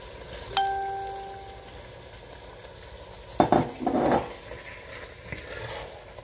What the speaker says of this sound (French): voici notre chou chinois blanchi et sauré. Donc nous allons le rajouter.